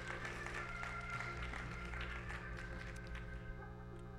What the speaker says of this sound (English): can we give God a hand clap of praise for this celebration of life?